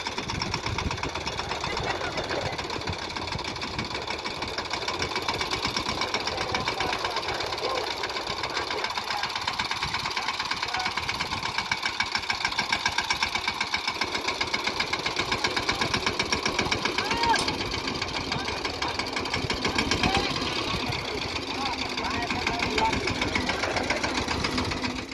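A tractor engine runs steadily at a fast, even knock for the whole stretch while harvested chickpeas are unloaded from its trailer, close and constant with a faint rattling wash over the top.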